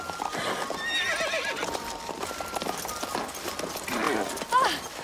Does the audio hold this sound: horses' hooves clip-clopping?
yes